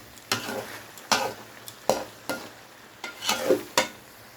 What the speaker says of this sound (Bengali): এখানে দিয়েছি বেগুন, সিম, আলু দিয়ে ভালো করে কষিয়ে নিচ্ছি।